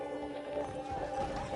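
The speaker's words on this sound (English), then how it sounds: "The horses are saddled up over here." Saddled horses in the Red Dead Redemption video game give soft, steady clip-clopping hooves with a faint whinny, quiet beneath a low game music drone.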